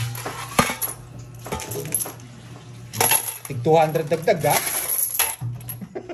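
Coins dropping onto a table during a tongits card game, with several sharp metallic clinks and clatters scattered among people talking nearby.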